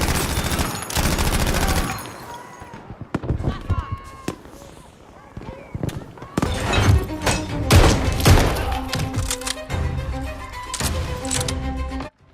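Gunfire in the war video game Battlefield V rattles in dense bursts of rapid shots and heavy thuds, loud and close, while a narrator talks over the fighting.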